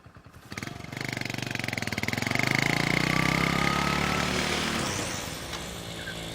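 A motorcycle engine starts and runs close by in a Telugu comedy scene, its rapid thumping putter rising in strength before it settles into a steady idle.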